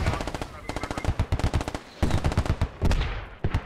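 SPG-armed technical vehicle in the game Squad firing rapid bursts, dense loud automatic gunfire pulsing in quick rhythmic strings with brief pauses, a voice talking underneath.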